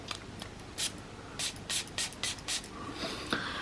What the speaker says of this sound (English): So I'm going to spray this back of the hand and see what we get.